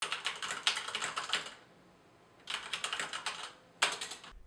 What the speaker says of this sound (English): If you have never used a mechanical keyboard before, I must insist. It makes coding fun, however, do not use it in the office as it is loud.